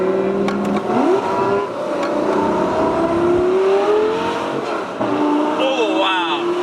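A straight-piped Lamborghini Gallardo Superleggera engine pulls hard from inside the car, its loud, raw wail climbing in pitch and dropping twice as gears change before rising again.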